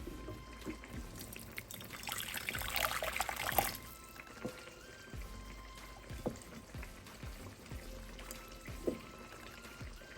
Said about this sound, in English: So I'm pushing this aside and add some water.